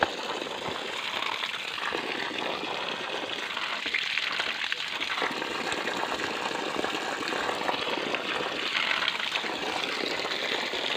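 Cold spring water flowing steadily near a bridge, a continuous loud gushing and splashing rush that holds unbroken throughout.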